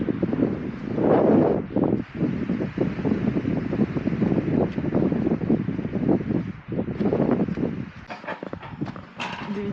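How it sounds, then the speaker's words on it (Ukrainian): Strong wind on Rysianka mountain buffets the microphone in loud, gusty roars and bursts that rise and fall throughout, with scattered thumps near the end. "Тут дуже сильний вітер."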